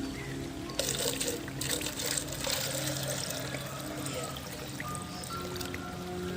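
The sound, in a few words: water poured into a plastic bottle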